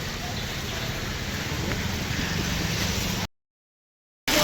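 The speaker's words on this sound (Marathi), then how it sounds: "भरपूर पाऊस होतो, येताना पण भरपूर पाऊस होतो." Heavy rain in the Konkan hills near Marleshwar, a steady dense hiss filling the scene for about three seconds, then a sudden cut to silence before the downpour returns.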